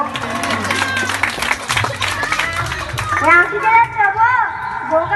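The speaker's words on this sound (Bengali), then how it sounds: "হাততালি দিয়ে একটু উৎসাহিত করুন দর্শকবৃন্দ।" Audience clapping at a stage show, scattered hands mixed with crowd noise and talk, giving way to a lively voice speaking over the crowd.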